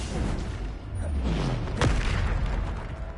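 Deep rumbling blast of the Bombarda explosion spell in Hogwarts Legacy, a sustained low boom with a sharper crack near the middle, loud and continuous over game ambience.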